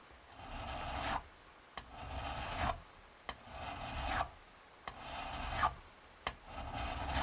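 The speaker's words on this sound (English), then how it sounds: "So I'm flattening out the file a little bit." A file recrowning guitar frets rasps in five or six even strokes, each a close, gritty scrape of about a second, broken by short pauses and small taps as the file is repositioned.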